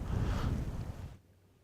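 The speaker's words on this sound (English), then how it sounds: "this wind's blowing about 20 mile an hour and it's cold" Strong, cold wind blowing at about 20 mph across open Kansas hunting ground, a loud broadband rush of gusting wind noise that drops off sharply near the end.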